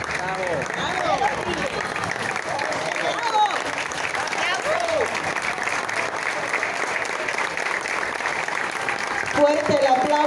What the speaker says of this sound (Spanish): Fuerte el aplauso para despedir al grupo de iniciación en flauta dulce.